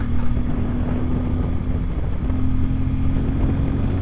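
Bajaj N250 motorcycle engine droning steadily while riding, a loud continuous low rumble with a constant hum and rushing wind noise throughout, no voices.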